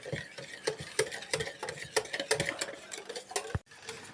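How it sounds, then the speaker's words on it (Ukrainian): A utensil stirring a milk and cream mixture in a metal saucepan over medium heat, producing a quick irregular series of scraping clicks and taps, close up and fairly quiet, without speech. "Не забуваємо постійно його помішувати, щоб не підграла."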